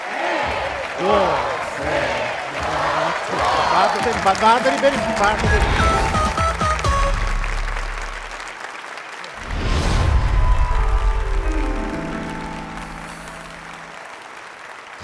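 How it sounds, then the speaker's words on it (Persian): Studio audience applauding on a game show, a broad burst of clapping and crowd noise mixed with speech and music, swelling again near the middle before fading. "تشویق کنین تیم صدا تو"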